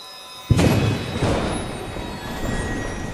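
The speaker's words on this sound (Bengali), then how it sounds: "বৃষ্টি যেন আকাশ ফেটে নামছে।" Heavy rain hits abruptly after a moment of quiet, becoming a dense, loud, steady roar of downpour that stays strong to the end.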